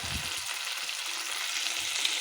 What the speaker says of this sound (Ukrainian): А це зараз підсмажу